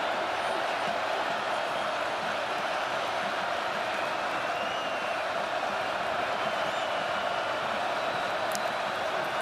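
Football stadium crowd at a UW vs UC Davis game, a steady, broad roar of cheering that holds level for the whole stretch, dense and distant-sounding with no distinct voices.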